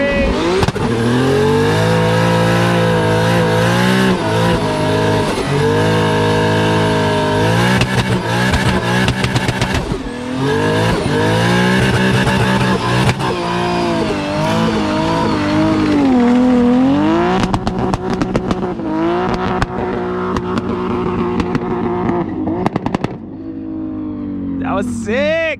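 An S15 drift car on full throttle, its engine revving hard and wavering in pitch for a long stretch with squealing tyres, loud and close, while people talk nearby.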